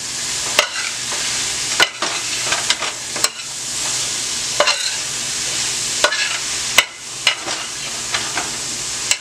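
Mixed red, yellow and green bell peppers stirred in a hot pan for smothered pork chops: a loud, close sizzle with regular sharp utensil scrapes and knocks against the pan.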